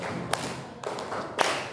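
A classroom of students performs a rhythmic clap chant, with two sharp, loud group claps well spaced apart and a softer patter of scattered claps between them, with no talking.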